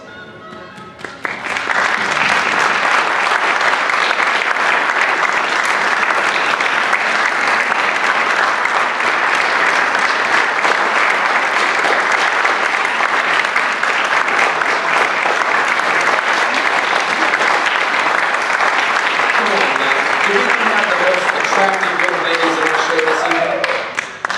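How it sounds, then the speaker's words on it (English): Sustained, loud audience applause for models taking a final bow at a WWII-themed fashion show, dense steady clapping filling the room for over twenty seconds, with a few voices emerging near the end. "give them a great big round of applause"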